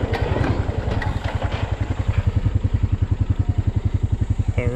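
A four-wheel drive vehicle engine drives along a trail, giving a close, loud, rhythmic low chugging with some rattling clatter throughout.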